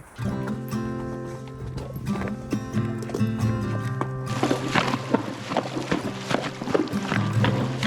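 Hooves clip-clop steadily on hard ground, close by, with a few snorts and shuffling as horses walk along in the Northwest Territories.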